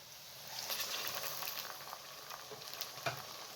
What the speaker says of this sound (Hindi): ऑयल को मैंने गर्म कर लिया है और इसके अंदर प्याज डाल दिया है।